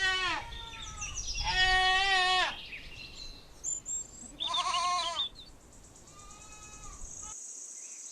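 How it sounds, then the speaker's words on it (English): A goat bleats in several long, wavering cries, some overlapping and others short, clear and close against a faint background of insect chirping. "Little goat."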